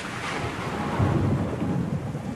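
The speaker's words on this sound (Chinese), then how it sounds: "如果不是赶上这场罕见的暴风雨" Dramatized thunderstorm for a television war drama, with heavy rain hissing steadily and a deep thunder rumble swelling near the middle, loud and close with no voices.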